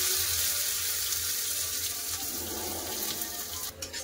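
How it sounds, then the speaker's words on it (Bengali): Chopped onions dropped into hot oil with five-spice seeds and bay leaves in a karahi, giving a steady, close sizzle and hiss that holds evenly throughout, no voices. "ফোড়ন হয়ে গেছে, দিয়ে দেবো কেটে রাখা পেঁয়াজ।"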